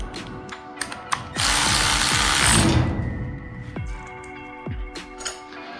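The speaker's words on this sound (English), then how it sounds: "Take a 9/16 and tighten that baby down" A ratchet wrench with a 9/16 socket tightens a nut on a garage door extension spring system, its pawl clicking in quick bursts with a brief louder mechanical rush in the middle, close and loud with no talking.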